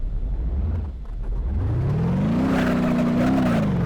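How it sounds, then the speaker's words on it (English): A vehicle drives across sand in BeamNG.drive. Its engine starts with a low rumble, then revs up steadily into a sustained whine, loud and close with no voices. "Let's see how this vehicle handles sand."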